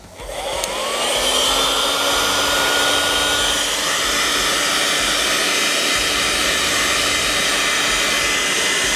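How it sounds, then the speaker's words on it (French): A heat gun blowing and heating vinyl wrap film on a Ford Taunus, its fan and element spinning up to a loud steady whoosh that holds close and unbroken throughout. "avec un décapeur thermique, tu peux le chauffer et ça fait disparaître un peu les imperfections ici"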